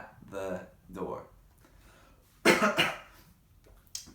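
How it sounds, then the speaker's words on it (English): A person reading a children's book aloud coughs a few times into an elbow, with sharp bursts separated by pauses and a short throat-clearing rasp, heard close and mixed with bits of voice. "I just had to cough there into my elbow because I didn't want to spread any germs."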